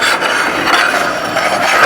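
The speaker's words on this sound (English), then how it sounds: "an easier way to get this off is just take one of your other pieces and just scrape it off" A steel piece of a welding fixture table scraped clean of residue with another metal piece, a loud, close, continuous rasping grind with no pauses.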